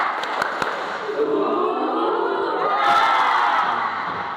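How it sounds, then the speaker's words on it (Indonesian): A school class stands and performs a rhythmic spirit clap, a few sharp claps followed by the group shouting a loud unison chant that swells toward the end. "Tepuk semangat."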